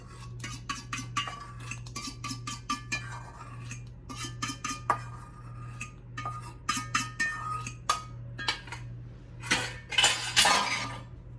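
A whisk clinks and scrapes rhythmically against a pot as kuzu mixture is beaten into boiling vegan, gluten-free pecan pie filling, with quick metallic taps over a steady low hum and a denser rattling burst near the end.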